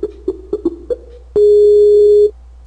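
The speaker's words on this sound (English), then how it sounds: "I'll just call the Skype's Echo service or sound test service here." A Skype call to the Echo sound test service rings from a computer: a handful of short, evenly spaced soft pulses, then a single loud sustained tone lasting about a second, followed by quiet.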